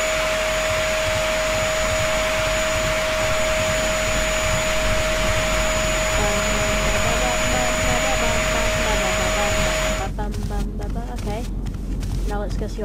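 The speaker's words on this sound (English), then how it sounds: "we wanted to vacuum" A vacuum cleaner runs with a steady, loud whining roar and a constant high tone, then cuts off near the end, leaving a few seconds of quieter background sound.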